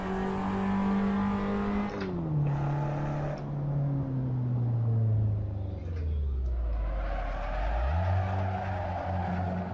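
A Fiat Fiorino LX engine in a racing video game on Laguna Seca, revving and shifting through gears with pitch climbing and dropping, brief tire squeal, then a deep downshift and renewed acceleration, loud and steady without talk.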